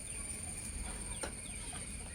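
A red rooster clucking in a backyard coop, a few soft, close calls over a steady background hum.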